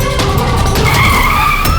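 A car's tires screech loudly as it skids to a stop, a long, harsh squeal over engine rumble, close and filling the whole moment.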